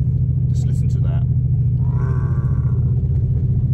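Artificial engine sound from a noise box in an Everrati electric conversion of a classic car with a boxer six, a steady low rumbling drone heard from inside the cabin while someone talks over it.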